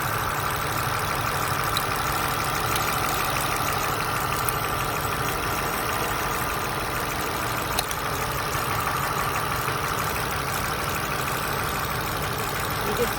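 A car engine runs steadily near idle during a cylinder power balance test, with no cylinder misfiring. The hum is loud, close and even throughout, with a faint knock-like texture and no one talking.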